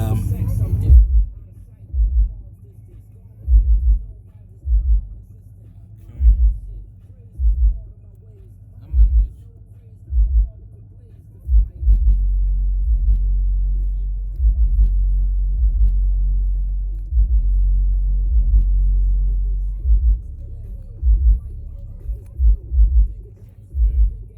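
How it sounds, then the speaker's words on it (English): A car engine idles with a low rumble and throbs through a series of rhythmic revs as the gas pedal is pressed and released, then holds a longer sustained rev before more short bursts, loud and close with no talk. "show you guys when we step on the gas"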